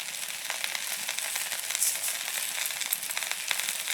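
Elephant apple pickle with sugar is stirred in a pan, giving a soft, continuous sizzle with light scraping strokes, close and steady over a few seconds, with no voices.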